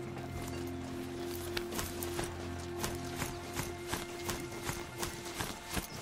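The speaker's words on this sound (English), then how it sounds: "Hi everyone, I've got a metal horse." Metal machine horse hooves in the video game Horizon Zero Dawn, a steady clip-clop gait of repeated hoofbeats over a tonal game soundscape, with a voice talking at times.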